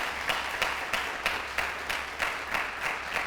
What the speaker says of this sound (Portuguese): Dá um aplauso ao Senhor, aleluia!